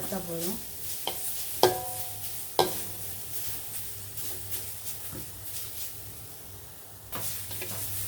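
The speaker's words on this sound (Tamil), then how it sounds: "இப்படி இந்த ஈரப்பசை போகிற வரைக்கும் வறுத்தா போதும், கருக்க வறுக்க வேண்டாம்." Half a cup of grated coconut is dry-roasted in a pan, a quiet scraping stir over a steady low hum, with a few sharp clinks of the spatula against the pan near the start and one more toward the end.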